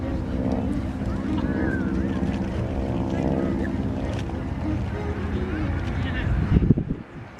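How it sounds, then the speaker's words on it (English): Vintage planes at the Flying Circus Airshow in Bealeton rev their engines before a formation takeoff, a steady droning engine rumble with wind buffeting the microphone and faint voices, rising to a brief louder burst near the end. "revving up their engines now, and this is our formation takeoff"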